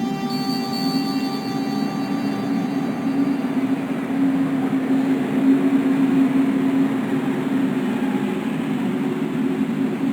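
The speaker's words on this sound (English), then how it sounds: "The train was my ride out of there." Steady low rumble of a train in the Broken Sword 2 video game, a continuous droning hum with a faint high whine, holding level throughout with no talking.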